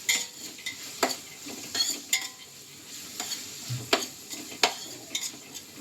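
Sliced onions frying in oil in a pan for a Kochi-style chicken biryani: soft steady sizzle broken by repeated scraping stirs of a utensil, close and fairly quiet, no talk.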